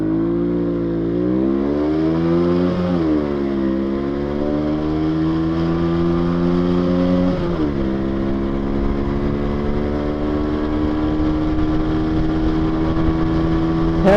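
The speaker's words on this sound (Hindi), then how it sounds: "थर्ड गियर को मैं थोड़ा सा ज़्यादा खींचता हूँ क्योंकि इसमें थोड़ी सी पावर आती है मेरे पास" A motorcycle on a night road pulls hard through third gear, its engine note climbing steadily in a loud, close, continuous rev with a brief dip at a shift, no talking over it.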